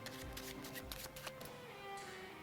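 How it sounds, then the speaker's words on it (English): A deck of playing cards riffled in a jog shuffle, giving a close, crisp flurry of card flutters in several quick bursts followed by softer handling. "Let's say we do the same usual jog shuffle."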